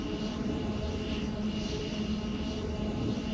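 An Air Speeder in Ark Survival Evolved flies and speeds up with a steady, loud, droning aircraft-engine roar, continuous and close throughout.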